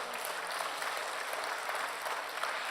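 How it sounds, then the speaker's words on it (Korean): A church congregation applauds to glorify God during a sermon, a steady, even patter of many hands clapping, fairly faint and distant throughout. "하나님 영광의 박수 돌리게 되기를 바랍니다"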